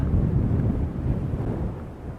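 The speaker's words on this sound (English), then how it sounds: "it's really, really, really windy this way, so hopefully you can hear me." Strong wind buffets the microphone in a steady low roar on the Devils Hall hike in Guadalupe Mountains National Park, loud and continuous with no voices.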